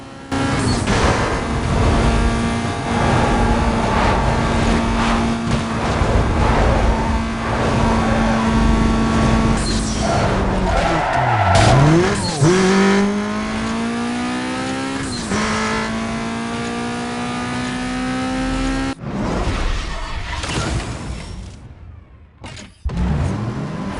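A Dodge Viper race car in Need for Speed Most Wanted revs loudly with rising and falling engine pitch, tires squealing through skids, then cuts out briefly before the engine roars back.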